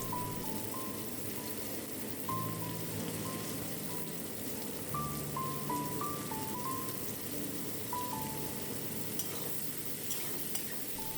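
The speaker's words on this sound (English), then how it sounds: "When the oil is sufficiently hot, add 3 large finely sliced onions in it." Finely sliced onions, three large ones, sizzle steadily in hot mustard oil for a Bengali crab curry, a continuous dense crackling hiss with faint stirring scrapes, close and alone without talk.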